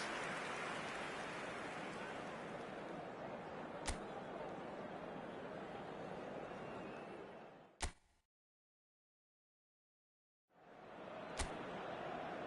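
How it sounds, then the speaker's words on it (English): Heavy rain pours steadily over a night football stadium under floodlights in the video game eFootball, a dense continuous hiss broken by a few sharp cracks and a brief silent gap before the downpour resumes. "The rain is tumbling down here, you can see it against the floodlights."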